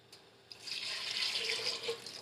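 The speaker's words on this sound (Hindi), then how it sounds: "अब मैं इसमें पानी शामिल करूँगी।" Water streams steadily into a pressure cooker of reshadar shami kabab mixture, a close, continuous hissing pour lasting a couple of seconds after a faint start.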